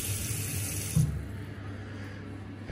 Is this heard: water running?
yes